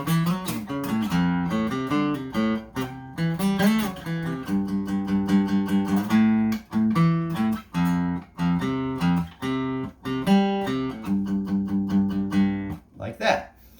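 Combined guitar part from a song, with strummed chords and picked fifths together in a steady rhythmic pattern, close and clear, ending with a brief scrape.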